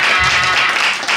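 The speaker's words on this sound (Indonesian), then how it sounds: "Tepuk tangan aja, jangan takut." A brief burst of hand clapping, several people clapping together, loud and close, at a church prayer meeting.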